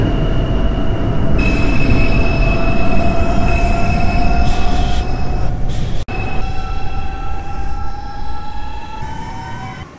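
An R142 subway train runs loudly in the OpenBVE train simulator on the 4 line toward Pelham Bay Park, a steady rumble under a sustained, rising wheel squeal that continues throughout, with a brief dropout near the middle.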